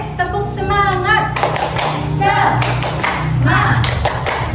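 Schoolchildren in a classroom perform the rhythmic tepuk semangat clapping routine, patterned bursts of claps and thumps mixed with loud chanting children's voices, close and lively.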